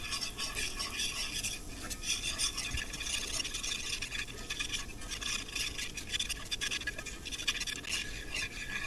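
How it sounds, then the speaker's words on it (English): Melted butter and all-purpose flour are whisked together into a roux, a steady, continuous scratchy swishing of the whisk against the pan with no pauses and no voices. "I'm going to whisk this together."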